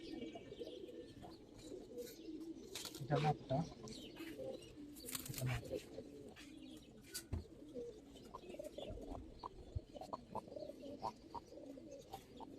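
Old-breed Giribaz pigeons in a loft cooing softly and intermittently at close range, with scattered wing flutters and clicks while someone talks quietly over them.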